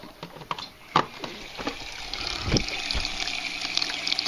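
Water trickles and splashes into an aquaponics tank with a soft, continuous hiss, broken by a few small knocks and clicks nearby.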